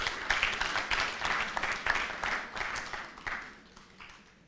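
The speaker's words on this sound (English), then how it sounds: "Clap for yourselves, please." Graduates at a graduation ceremony in Kampala, Uganda applaud together, a dense crowd of clapping that holds steady then gradually thins and fades toward the end, with no talking over it.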